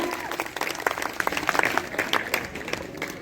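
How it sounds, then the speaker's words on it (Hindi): A dense burst of audience applause at an award presentation for a general knowledge competition in Paigaon, Mathura, with many hands clapping steadily throughout and a voice faintly audible underneath. "तालियों से स्वागत किया जाए।"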